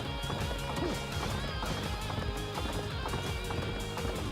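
A horse galloping in the Warriors Orochi 4 video game, its rhythmic hoofbeats running continuously beneath layered game music and effects throughout the stretch.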